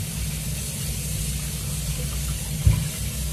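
Fruit is washed under running water, a steady, even rush of flowing water close by. A single soft thump sounds near the end.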